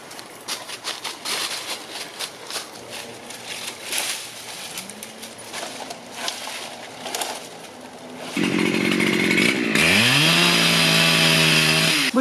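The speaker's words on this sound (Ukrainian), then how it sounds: "Бо я бензопилку даю тут." A petrol chainsaw cuts into a tree, starting suddenly near the end and revving loud and close after a stretch of quieter outdoor sounds with faint birds.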